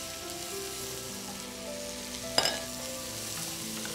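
Capsicum being sautéed with tomato and onion in a pan for paneer jalfrezi, a soft continuous frying hiss with one short clattering stir near the middle, faint and close, with a steady tonal hum underneath.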